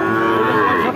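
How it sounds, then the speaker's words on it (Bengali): A Sindhi breed cow at a busy cattle market gives one loud, close, sustained moo lasting about a second. "সিন্ধি জাতের গরু"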